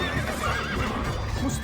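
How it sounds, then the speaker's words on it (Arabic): Horse neighing mixed with rapid galloping hoofbeats in the video game Stronghold Crusader, a short, busy burst of whinny and clip-clop heard up close. "الحصان صريخ، الفرس تعدو."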